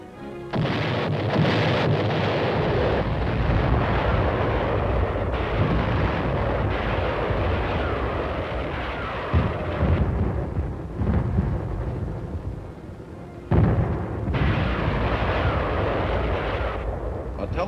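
A heavy 1950 military artillery barrage booms and rumbles continuously, loud deep blasts rolling into one another with occasional sharper hits and brief lulls.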